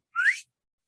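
A single bird's whistled contact call, rising sharply in pitch like a Swainson's thrush, heard close and clear during birding in California or Arizona; one short upslurred note, then silence.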